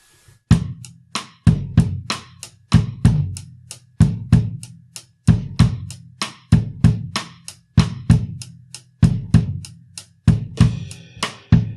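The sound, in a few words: four snare drums playing a Brazilian rhythm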